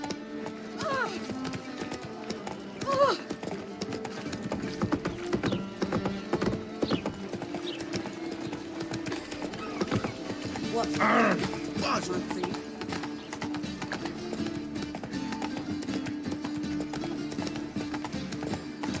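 Geralt's horse Roach in Witcher 3 trotting with steady hoof clip-clop and an occasional whinny, set against game music and ambient background sound.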